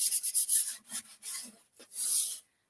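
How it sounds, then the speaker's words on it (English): Milk-painted wood scuffed by hand to knock down its sheen, a series of short, close rubbing strokes, quick at first and then slower and longer before stopping. "I'm just going to scuff this up a bit just to get down the sheen just a hair."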